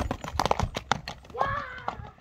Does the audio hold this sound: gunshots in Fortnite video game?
no